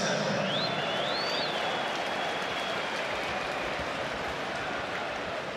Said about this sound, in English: Smattering of applause as the crowd here are told the attendance